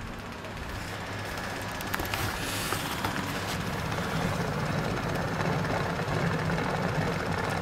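Vacuum pump on a waste motor oil to diesel still runs steadily, a continuous mechanical hum with a broadband hiss, close and even throughout.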